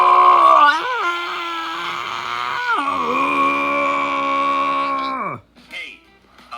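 Two voices let out long, loud, sustained screams with wavering pitch, close and continuous for about five seconds before cutting off into brief quieter vocal sounds.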